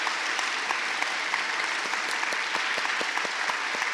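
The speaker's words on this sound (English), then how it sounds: "I want you to give Reverend Sherry Hilliard an extra applause" Steady applause from a congregation at an annual church meeting, honoring a reverend, with dense continuous clapping at an even level throughout and no talk.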